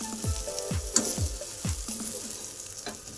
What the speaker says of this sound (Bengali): লাল লাল করে সুন্দর করে ভেজে নিয়েছি সোয়াবিনটা।